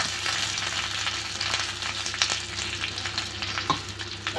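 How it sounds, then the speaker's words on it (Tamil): Red chillies, curry leaves and asafoetida tempering in hot oil, with a loud, steady crackling sizzle and sharp spatters and pops throughout, close by and with no voices. "தாளித்து கொட்டிக்கலாங்க"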